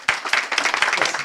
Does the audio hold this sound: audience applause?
yes